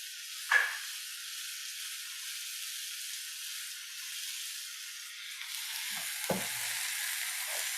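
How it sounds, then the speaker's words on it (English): Rice sizzles and hisses steadily while being stir-fried in a hot pan for biryani, a soft continuous frying sound broken by a few scraping stirs and knocks toward the end. "You're gonna stir fry this for a couple of minutes on the same level of heat."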